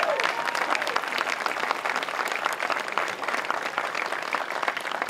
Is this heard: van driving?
no